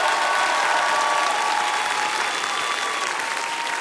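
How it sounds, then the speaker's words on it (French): A circus audience claps steadily and loudly in dense, continuous applause from many hands, tapering a little toward the end. "Je crois qu'on peut l'applaudir très très fort."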